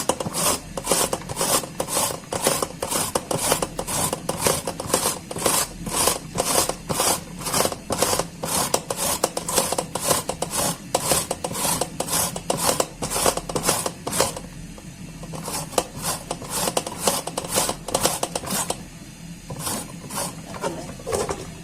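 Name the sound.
grating carrots with a hand grater for carrot payesh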